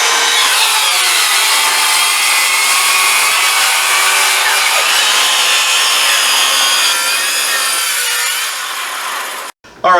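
Circular saw ripping through a single sheet of 3/4 inch MDF, a loud, continuous high-pitched cutting whine that holds steady for nearly the whole stretch and then cuts off abruptly as the blade clears the board.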